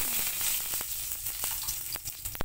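Okra, or lady's fingers, frying in a pan after bacon gives a loud, continuous sizzle with scattered pops and crackles close up, with no voices.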